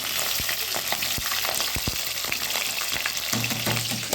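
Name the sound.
potatoes frying in hot oil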